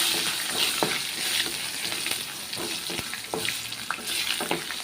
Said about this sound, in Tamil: வெங்காயம், வத்தல் எல்லாம் போட்டு கருவேப்பிலெல்லாம் போட்டு நல்லா பொன்னிறமாக வரணும்